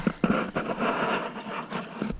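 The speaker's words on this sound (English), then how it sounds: "That sends a gush of water down everything." Water gushes down through a newly installed InSinkErator garbage disposal as a filled sink drains, a steady close rushing that pulses briefly at the start and stays loud throughout.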